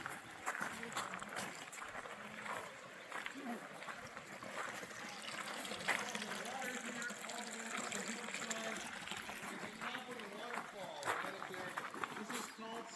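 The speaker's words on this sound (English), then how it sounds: "Top of the waterfall way up there." Scallop Falls in a Kauai botanical garden pours steadily, a soft, continuous rush of falling water beneath people talking at a distance.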